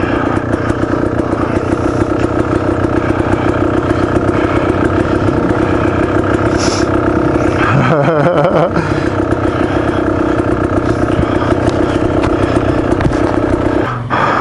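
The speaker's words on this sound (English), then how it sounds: "Got a little single track here, riding with Will." Beta Xtrainer dirt bike ridden along rocky singletrack, its engine droning loud and steady throughout with a brief throttle change partway, close to the rider and with no talk.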